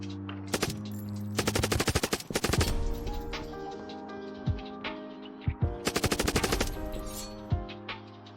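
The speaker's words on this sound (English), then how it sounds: "I'll show you a clip while using the MP5" Bursts of MP5 submachine gun fire in the cryzen.io shooter game ring out in several rapid automatic strings, loud and close, separated by brief pauses with a few single shots between them.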